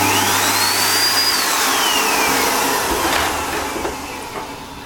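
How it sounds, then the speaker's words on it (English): A Miele Cat and Dog 5000 vacuum cleaner with a newly changed motor runs close by with a loud steady whine that sweeps upward at spin-up, then slowly fades as it winds down. "That is how to change the motor in a Miele Cat and Dog 5000"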